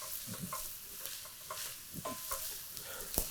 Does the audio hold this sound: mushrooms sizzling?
yes